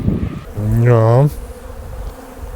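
Honey bees from a small swarm at a hive, one loud close buzz rising for about a second before fading into a quieter background hum.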